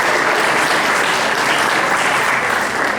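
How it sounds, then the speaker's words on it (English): Steady, close audience applause at a career fair event, an even dense patter of many hands clapping throughout the short stretch with no break. "Let's give them a round of applause."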